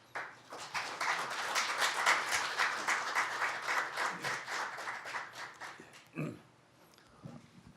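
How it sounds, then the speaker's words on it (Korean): Conference audience at a Korean agricultural policy forum breaks into applause to welcome a keynote speaker, a sustained burst of many hands that swells then fades after several seconds, followed by a brief voice. "큰 박수로 이사장님 모시겠습니다."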